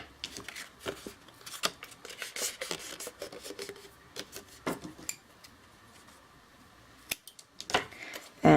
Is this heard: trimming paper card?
yes